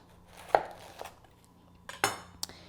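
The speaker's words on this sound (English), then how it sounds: "Now we're going to cut it in half." A knife slicing a whole cauliflower in half on a cutting board, a few sharp separate knocks and cracks spaced across a quiet moment, close and distinct.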